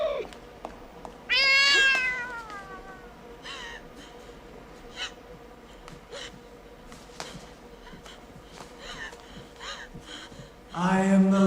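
A black cat in a horror film lets out two loud, drawn-out meows, one near the start and another at the very end, with quieter scattered sounds in between.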